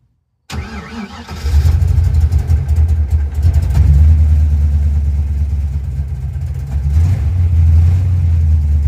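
A car engine fitted with a replacement Edelbrock 1405 carburetor cranks and fires after a short silence, then runs loudly and unevenly near the listener. It struggles to hold an idle and surges again toward the end.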